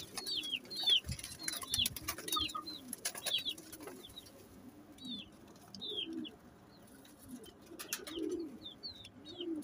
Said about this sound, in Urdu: بڑے اچھے کبوتر ہیں.